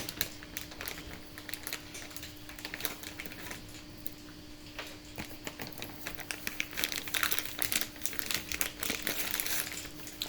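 Foil being peeled off the electrolyte tubes for a motorcycle battery, giving faint, close crinkling and tearing with small irregular crackles throughout, while a steady low hum sits underneath.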